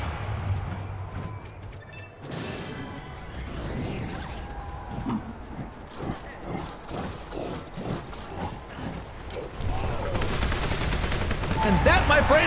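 Rapid bursts of Annihilator gunfire and mechanical clanks from a first-person shooter video game match, repeated shots at varying loudness mixed with game effects and some background noise.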